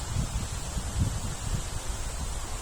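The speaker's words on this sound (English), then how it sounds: "oh, it's windy today." Wind gusts blow outdoors, buffeting the microphone with low rumbling bursts and a soft rustling hiss that keep going through the short stretch.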